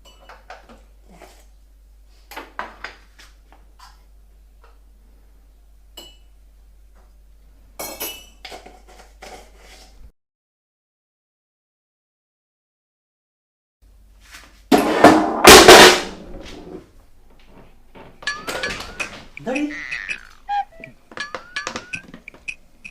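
Cups and spoons clink while coffee is made at home. The light chinks and taps are scattered, with a louder cluster of rattling clatter in the middle and quiet gaps between.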